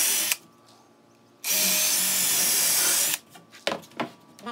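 A power drill drives screws into wooden deck railing: a short whir, then one long continuous high-pitched drilling burst, followed by a few brief clicks and taps of handling up close.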